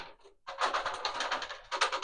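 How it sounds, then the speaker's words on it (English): Dice rolled onto a hard surface give a dry, rattling clatter of quick clicks that starts abruptly after a short pause and keeps going steadily to the end, fairly close. "So if each of you could take the dice and roll it"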